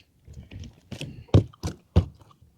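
Several wet thumps and slaps in quick irregular succession, close by, as a walleye or crappie flops against a hard boat floor.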